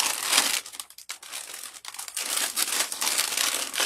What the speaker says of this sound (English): See if I can pull this. I'm going to cut this plastic.